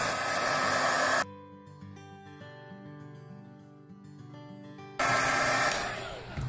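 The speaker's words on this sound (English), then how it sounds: "Now I'm gonna heat dry this." A heat tool drying craft paint from a Tattered Angels Naturally Aged kit in Precious Stone Turquoise: a loud, steady blowing hiss cuts off abruptly, quiet background music plays for a few seconds, then the roaring airflow returns.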